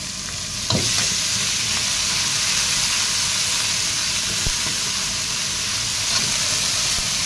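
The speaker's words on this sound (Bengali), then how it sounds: "ফ্রাই করার পরে দিয়ে দেবো আমরা আদা পেস্ট, জিঞ্জার পেস্টটা।" Ginger paste fries in hot oil for egg curry, a loud, continuous close sizzle and hiss with a few brief clicks of stirring.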